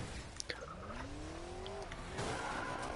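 A car skids and rolls over in a PS4 racing video game, with tire squeal sweeping upward over a steady engine roar and a couple of short knocks.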